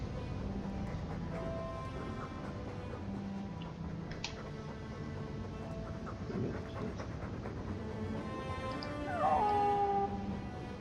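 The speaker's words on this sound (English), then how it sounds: "It's a stupid dog." Game dog in Dragon Age II howling and whimpering with panting and yips over a game music bed, no talk, a sharper whine rising near the end.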